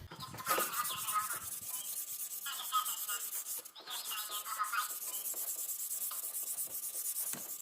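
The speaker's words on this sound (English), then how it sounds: "now I have to hand sand the entire thing back to what it was" A tempered Ka-Bar knife blade is hand sanded with steady, continuous scratchy rubbing strokes, close and fairly quiet, with no talking.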